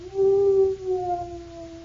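Mournful dog howl from an old radio program, one long sustained wail that bends and trails off, clear and alone.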